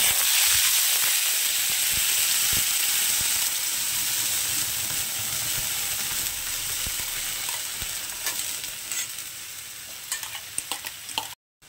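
Ground banana stem paste hits hot oil in a pan with a loud, steady sizzle and hiss that continues without a break, then cuts off abruptly at the end.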